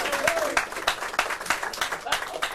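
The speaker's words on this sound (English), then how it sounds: "Give Oisin a big clap." A crowd applauds at a live Highland Radio broadcast. The clapping is close and fairly loud, arriving in quick bursts, and voices talk over it.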